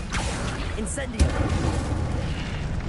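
A fire spell cast in the Hogwarts video game bursts with a single booming whoosh around the middle, set among ongoing game noise, with a voice calling out spells nearby.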